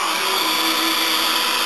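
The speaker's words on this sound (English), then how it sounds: "when we start the hairdryer" Hairdryer blowing toward a small model wind turbine, a steady loud broadband whoosh with a constant motor whine running unbroken throughout.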